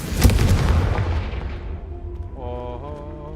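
Fiery spell blast in Hogwarts Legacy: a loud, broad explosive burst at the start decays over about two seconds, followed by bright tonal magical shimmer ringing near the end.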